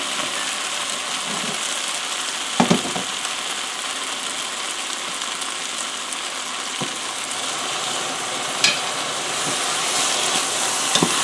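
Stock ladled into mushroom risotto sizzles steadily in the pan, a continuous hissing bubbling with a few brief clinks of the ladle or spoon.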